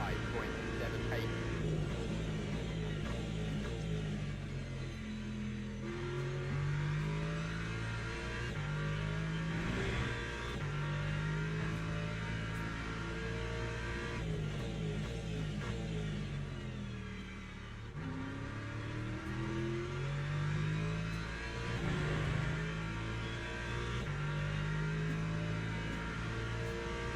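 Porsche and Aston Martin race cars in the Le Mans Ultimate sim at Daytona in the rain, engines droning and revving steadily through gear changes, loud and continuous with faint voice underneath.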